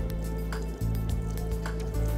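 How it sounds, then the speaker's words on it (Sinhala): Water poured from close by onto clean cloth pieces lining a saucepan used as a makeshift oven: a steady, continuous wet squishing and trickling with faint clinks and no voices. "ඊට පස්සේ වතුර ටිකක් දාන්න."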